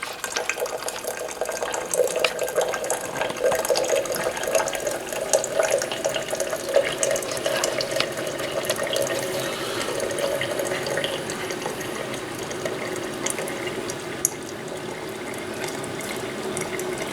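Vinegar solution running through a Keurig K79 coffee maker during descaling, a steady close trickling and hissing flow of liquid that continues evenly throughout without pause.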